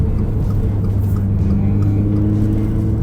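A Subaru BRZ ZD8 with improved throttle response drones steadily from inside the cabin, a loud, close, low engine hum holding an even note throughout with no clear revs or talk.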